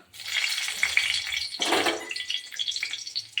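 Dry red chillies sizzle in hot refined oil with a soft, steady crackle that swells briefly partway through, then settles back into a quiet, even fry.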